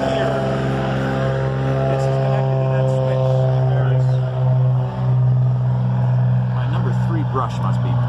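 A Gnome rotary aircraft engine runs steadily nearby, giving a loud, droning hum with a strong low tone and rattling mechanical overtones, its level dipping briefly a couple of times.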